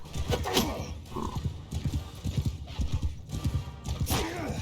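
Horse hooves clip-clop through a medieval battle game while a horse whinnies, the steady hoofbeats running under noisy combat sounds with rising neighs near the start and end.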